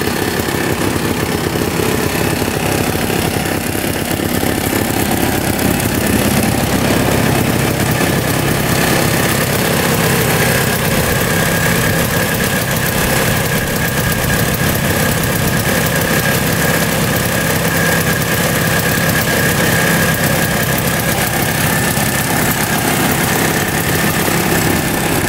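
A 1960s snowmobile engine idles steadily for about twenty-five seconds, a loud, unbroken rough drone with constant vibration heard up close, no talk.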